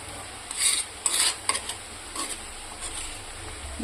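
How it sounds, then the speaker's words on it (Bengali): Garlic paste hitting onions frying in a pan for chicken kosha: brief bursts of sizzling and stirring rise and fade over a low steady hiss, close by, with no voices. "এবার আমি দিয়ে দেবো হচ্ছে রসুন বাটাটা।"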